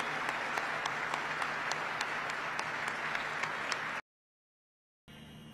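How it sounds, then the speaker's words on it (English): Troops at Al-Asad Air Base in Iraq applaud in a steady, dense burst of clapping that runs about four seconds, cuts to silence, then resumes briefly. "Give yourselves a round of applause"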